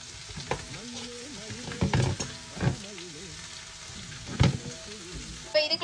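Agathi leaves sizzle and are stirred in a pan with softened onions, a quiet steady frying hiss broken by a few sharper scraping strokes.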